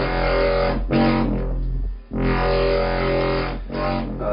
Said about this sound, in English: It's much more obviously distorted.